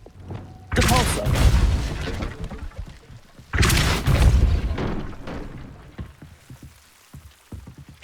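Spell cast in Hogwarts Legacy, two loud broadband bursts each swelling and trailing off over a couple of seconds, with fainter game effects and thuds between and after them.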